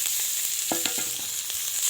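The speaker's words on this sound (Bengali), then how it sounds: "তো কড়াইতে পেঁয়াজ দিয়ে দেবো" Onions frying in a kadai for a village-style spicy tilapia fish curry: a steady close hiss of sizzling oil with brief stirring clatters, no talk.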